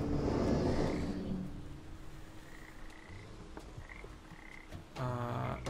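Frogs croak in the Papo & Yo video game. A burst of rapid croaking stands out near the end over an ambient background, with a few softer calls scattered before it.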